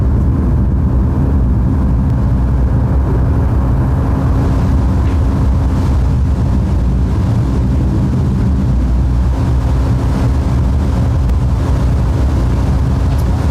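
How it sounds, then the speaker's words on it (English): A Blue Origin New Shepard booster's BE3 rocket engine burns in flight over West Texas, giving a continuous, heavy, low roar with a faint wind-buffeted texture that stays loud and unbroken. "Look at that beautiful BE3 engine in action."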